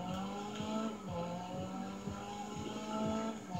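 A car engine in the Need for Speed video game revs hard and climbs in pitch through repeated gear shifts, loud and continuous, with tire squeal layered over the steady roar.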